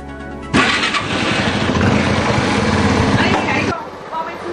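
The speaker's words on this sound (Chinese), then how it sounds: "跨上摩托车" An 83-year-old rider starts his motorcycle, and a sudden loud engine roar holds steady for about three seconds before dropping back to a low idle. Some talk runs around it.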